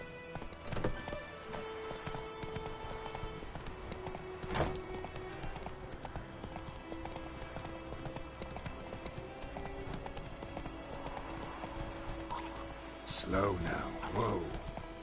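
Roach, the horse in The Witcher 3 video game, clip-clops along at a steady, rhythmic pace, hooves close and continuous, while voices talk over the hoofbeats.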